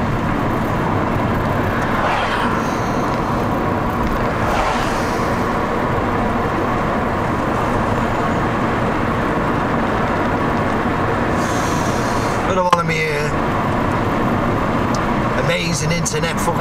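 Car interior while driving down a road with a dashboard camera mounted, steady broadband road and engine rumble throughout, with brief louder rustles and knocks near the end.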